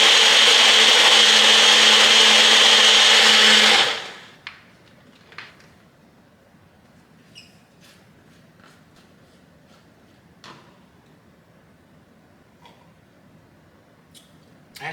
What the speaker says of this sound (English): I use this bottle blender.